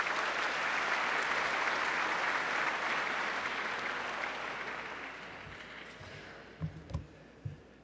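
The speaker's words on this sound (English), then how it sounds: "One more round of applause for Murray." Sustained applause from a gala dinner audience that swells, then gradually thins out, ending in a few scattered claps.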